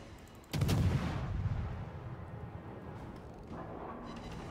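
A single deep boom of naval guns firing in World of Warships, with a long rumbling tail that fades over a couple of seconds into steady low game ambience.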